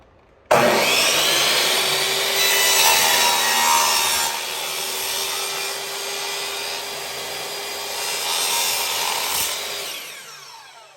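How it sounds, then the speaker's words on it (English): A miter saw cuts through a T2 cable, taking roughly a quarter inch off the end; one loud, steady grinding cut starts abruptly and runs about ten seconds with slight swells before the blade winds down. "take them downstairs and use the miter saw on it"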